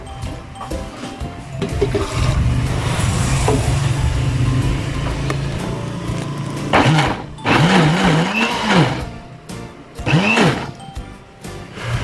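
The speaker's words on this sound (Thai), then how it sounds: "ใส่เนื้อปลาลงไปเลยค่ะ เติมน้ำหน่อย เพื่อปั่นง่าย ๆค่ะ" A blender whirs steadily as it purees fish meat with added water, with the motor rising and labouring in surges and a few short grinding bursts near the end.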